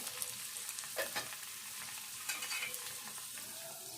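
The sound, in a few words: thinly sliced onion frying with cumin and mustard seeds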